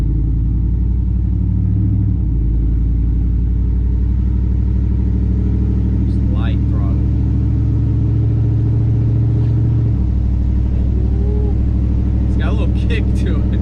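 Truck with a freshly upgraded transmission driving on the road, a steady low engine rumble with a shift-like change near the end, under continuous talking in the cab.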